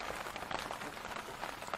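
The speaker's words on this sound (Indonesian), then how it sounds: "Hujan." Rain at a fishing platform (bagan) near Tanjung Kait, a soft, dense patter of drops on surfaces, steady and fairly faint over about two seconds, with no voices.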